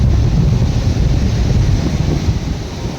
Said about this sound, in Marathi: तुम्ही बघू शकता इथं समुद्र किती उधाणलेला आहे आणि किती जोराच्या लाटा आहेत या समुद्रात.